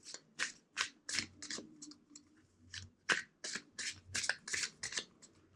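A rapid series of crisp, short card snaps and riffles repeats in a quick rhythm, close and fairly quiet, with no talking.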